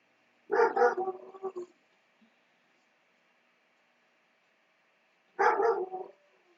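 Two separate dog howling cries set off by a passing train, a few seconds apart, each wavering and close, with silence in between.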